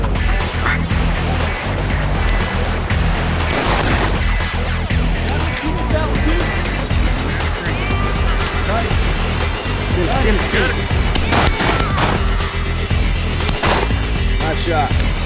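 Shotgun blasts ring out during a duck hunt on a flowing river, several sharp reports scattered through the stretch, heard over constant rushing water and people talking.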